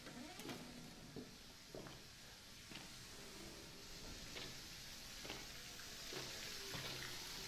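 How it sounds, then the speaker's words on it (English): Shower water runs steadily in the Resident Evil 7 midnight demo, a faint continuous hiss with a few scattered knocks beneath it and no voices. "Someone taking a shower?"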